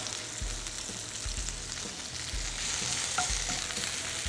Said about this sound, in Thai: ก็ลวนหมูให้สุกหน่อย ใส่น้ำปลาไปนิดเพื่อให้หอมหน่อยนะครับ